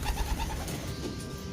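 Racing pigeons give soft, low cooing calls over a brief stretch, close by and fairly quiet.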